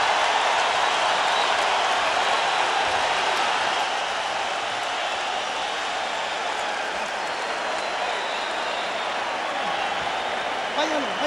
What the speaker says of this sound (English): The crowd comes alive here at Staples Center.